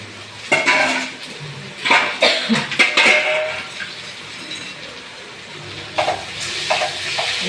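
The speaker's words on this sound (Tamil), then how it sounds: "இந்த அடுப்பை சிம்மில் வச்சுக்கிட்டு நம்ம அதை நல்லா கிளறி விடணும்." A spatula clatters and scrapes against a pan while idli upma with onions is stirred over the stove. The knocks come in irregular bursts over a soft sizzle, and no one speaks.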